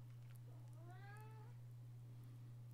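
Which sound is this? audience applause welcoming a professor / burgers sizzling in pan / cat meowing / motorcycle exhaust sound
cat meowing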